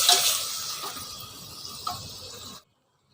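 Mutton sautéing with small onions in a pan gives a steady, close sizzle with faint stirring scrapes, running alone before it cuts off abruptly near the end.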